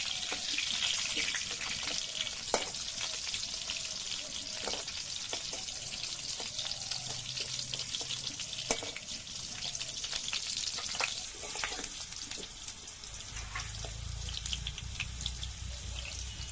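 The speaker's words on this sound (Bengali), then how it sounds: "এবার কড়াইতে তেল দিয়ে দিচ্ছি আলুগুলো ভেজে নেওয়ার জন্য।" Potatoes fry in oil in a wok as chicken curry is cooked. A steady, soft sizzle runs throughout with occasional scraping clinks and stirring, and a low rumble rises near the end.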